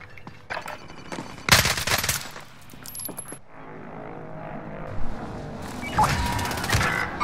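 Mac 10 submachine gun fire in Call of Duty Modern Warfare, loud rapid bursts crackling in the first seconds, followed by quieter rattling shots, clinking impacts and game ambience.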